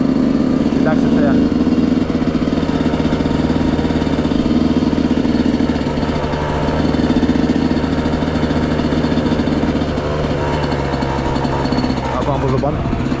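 Yamaha YZ125 dirt bike engine running steadily during a ride, a loud continuous buzzing drone close by throughout, with voices talking over it.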